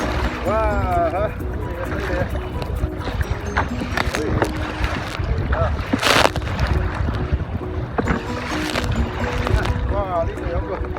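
Strong wind and rough sea waves roar steadily around a fishing spot, with constant broadband noise and occasional surges. Voices call out over it.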